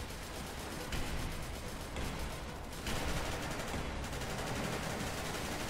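Gunfire in the video game SCP: Secret Laboratory, a dense continuous spray of rapid shots over several seconds, fairly steady and mid-loud, with slight surges in intensity and no talk.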